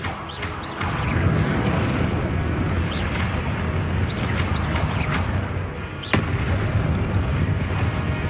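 A Confringo blasting spell cast in the video game Hogwarts Legacy, a dense roaring burst with several sharp cracks and bangs over continuous rumbling game noise, loud and close throughout.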